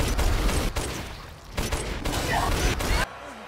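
Pistol gunfire in the horror video game Resident Evil Village, a run of close, sharp shots and broadband blasts with game mechanism clatter between them, ending in a quieter stretch.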